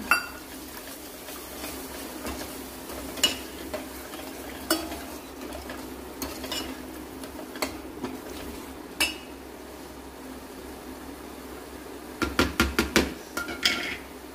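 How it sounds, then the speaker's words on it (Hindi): Onions and spices fry in a pan for chole, a steady soft sizzle running underneath while a spoon stirs and scrapes with occasional clinks, ending in a quick run of sharp metallic taps against the pan. "प्याज भूनने के बाद इसको हम थोड़े से अच्छे से भून लेंगे"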